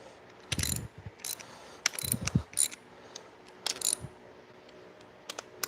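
Wrench ratcheting as bolts on a rotary engine build are tightened to torque spec in a torque sequence, several short bursts of rapid clicking with small metallic clinks between them, close and fairly quiet, no talking.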